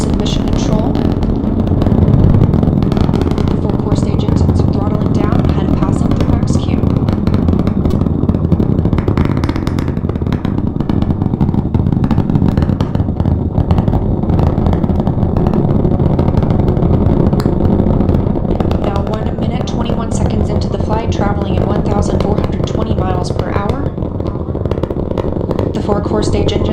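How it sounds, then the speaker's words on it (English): The NASA SLS rocket's four core stage engines roar during the Artemis 1 launch as a loud, continuous, crackling rumble that persists throughout, with voices talking over it. "The 4 core stage engines throttling down ahead of passing through"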